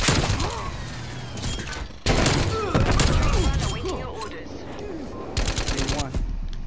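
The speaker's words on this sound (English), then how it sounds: "Hostile sentry turret active." A hostile sentry turret in a video game firing sustained rapid automatic bursts, loud and close, broken by short pauses, with a voice talking underneath.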